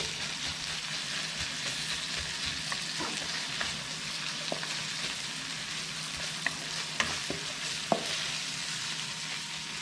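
Curry paste is stir-fried in a pan with clams for a spicy Thai stir-fry. It gives a close, continuous sizzle and frying crackle, with occasional sharp scrapes and knocks from stirring. No one speaks.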